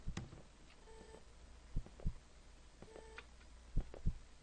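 A slow, muffled heartbeat thuds in pairs inside the horror game One Late Night, soft and low with long gaps between beats over a faint hum, and no voices.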